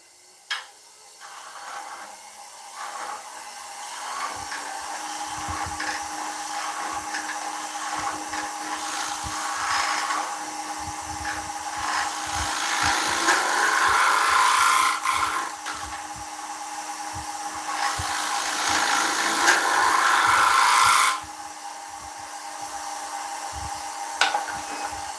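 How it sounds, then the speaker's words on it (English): Power sander working an ash wood serving bowl on a lathe, a steady whirring hum that swells and fades as the sander presses and lifts, loud and close, no talking. "Then we're going to sand it."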